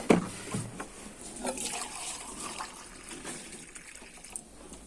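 Water is poured for rabbits in a hutch, a soft close trickle and splash that runs on for several seconds alongside faint handling noise.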